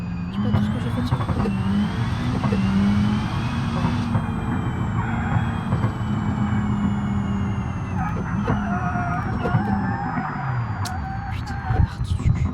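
A Volkswagen Golf 7R with a stage 3 engine in the BeamNG Drive racing game revs and holds steady pitches, with a droning engine tone, shifting gears, and someone talking over it throughout.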